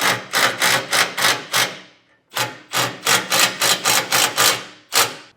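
A power drill drives self-tapping screws into a metal bracket during a trailer wiring harness install on a 2017 Ford, in two runs of short, sharp bursts, each spaced by a brief pause, loud and close.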